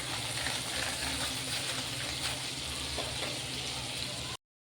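Whole cumin seeds frying in melted butter in a pan, giving a steady, close, low-level broadband sizzle with no talk over it.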